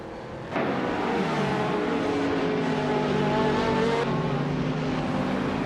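A 1995 Marcos LM 600 race car roars at steady high revs in a racing game, droning continuously with other engines after a sudden rise in loudness near the start.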